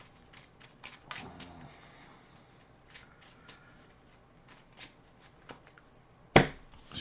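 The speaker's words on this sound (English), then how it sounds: "Shuffle the encounter deck." Marvel Champions cards being shuffled by hand, a run of quiet riffling clicks and soft flutters ending in a sharp, loud snap as the deck comes together.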